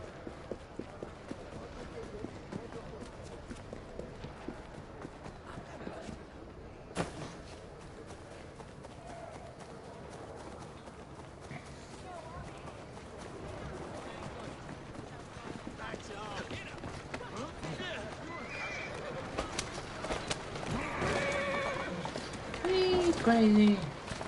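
A horse in Assassin's Creed Syndicate runs with rapid, rhythmic hoofbeats on the street, the pace and loudness building over time, with a brief whinny near the end and someone talking over it.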